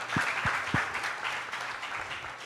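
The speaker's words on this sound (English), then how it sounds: "We will convey that clap to Sister Grace and her staff." Applause from a conference audience at a panel discussion, steady dense clapping throughout with a few sharper individual claps near the start, moderately loud and with no talking over it.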